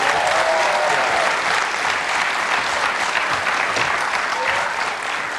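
A television game show studio audience applauds warmly for a contestant, dense sustained clapping that stays loud and even from start to finish with only faint voices beneath.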